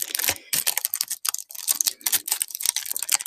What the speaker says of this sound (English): It is cellophane crinkling, but it is not Temu.